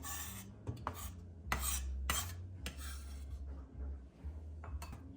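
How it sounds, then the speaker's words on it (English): Fresh ginger being finely grated for a salmon marinade in a kitchen: close, scratchy rasping strokes come in irregular bursts with occasional metallic clinks, over a steady low background hum, with no talking. "We're going to finely grate the ginger"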